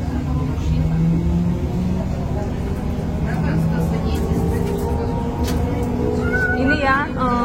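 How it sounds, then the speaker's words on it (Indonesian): Electric city bus in Chisinau with a low steady hum and interior rumble, close by, under continuous talking from passengers. "Ini ya bus listrik yang ada di kota Chisinau."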